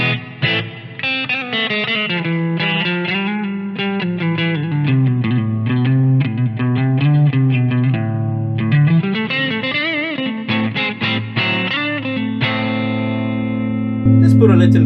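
Electric guitar played through a JHS NotaDumble overdrive pedal into an amp with reverb from a UAD Heavenly pedal, a warm, lightly driven tone with sustained notes and flowing phrases, loud and close, ending on a ringing held chord.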